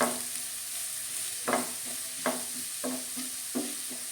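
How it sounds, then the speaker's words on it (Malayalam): Banana leaf thoran stir-fried in oil in a pan, with a steady soft sizzle under a series of spaced scraping stirs of the spoon, close and fairly quiet. "ഇനി എണ്ണയിൽ കിടന്നൊന്ന് വഴറ്റിയെടുക്കാം."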